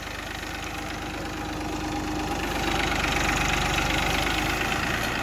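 A tractor engine rumbles steadily with a knocking diesel idle, growing slightly louder as it revs and pulls away at a sugarcane jaggery-making site, no voices present.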